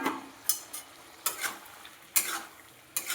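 Boiled potato and papaya being sautéed with spices in a pan, with a steady soft sizzle broken by several sharp scraping strokes of a spatula against the pan.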